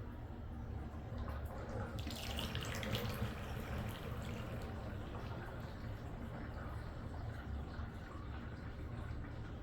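Water gurgles and rushes steadily down a bathtub drain, a continuous wet splashing noise with no pauses.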